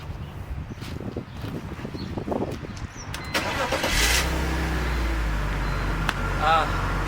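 A BMW E46 325i with the M54 inline-six engine starts up after a few quiet clicks and faint voice, cranking briefly, then catching into a loud, steady idle close by.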